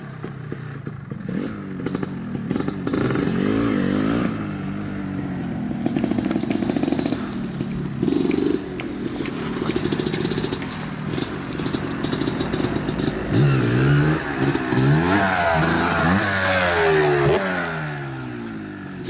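A 1991 Kawasaki KDX250 two-stroke dirt bike engine revs hard in second gear, with a loud, buzzing, rising and falling wail that swells and drops repeatedly, plus some clattering, and no voices.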